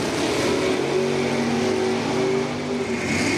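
Drag racing cars, a Mustang and a 1969 Camaro, roar steadily at a strip, with loud, continuous engine noise and rising tonal whines as they accelerate, heard from a moderate distance with no voices.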